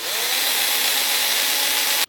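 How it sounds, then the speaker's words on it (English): A power drill bores mounting holes for a touring car wing, a steady high-pitched whine running loud and close for about two seconds before cutting off abruptly. "and just started drilling."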